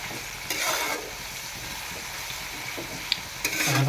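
Raw onion and green chili fry in hot oil for a chicken curry, a steady close sizzle with occasional scraping stirs of a spoon in the pan.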